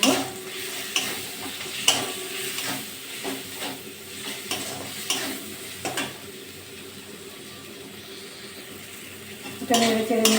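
Fish curry masala with tomato being stirred in a frying pan, a spatula scraping and knocking repeatedly against the pan over a continuous sizzle, with a louder burst of frying near the end.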